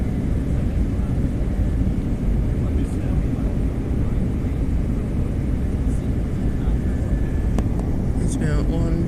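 An Airbus A320 airliner flies over Sydney on approach to the airport, heard from inside as a loud, unbroken engine and cabin roar that holds steady throughout.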